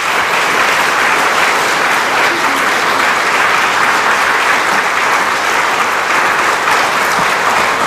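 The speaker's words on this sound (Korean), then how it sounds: "우리 박찬주 대장님 나오실 때 큰 박수로 여러분들 환영해 주시길 부탁드리겠습니다" Loud, sustained applause from a large crowd, steady and dense throughout with no voices standing out.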